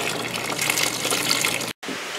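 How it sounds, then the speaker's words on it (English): Water rinsing red lava rock inside a DIY bio sand filter: a steady, full gush of running water, close and loud, broken by one brief dropout near the end. "what better thing to rinse off your lava rock within the filter itself?"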